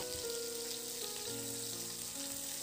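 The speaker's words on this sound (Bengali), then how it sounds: "বেশ এপিট ওপিট করে হালকা করে ভেজে নেব।" Fish pieces fry lightly in oil in a pan with a steady, close, even sizzle and faint crackle throughout, with no talking.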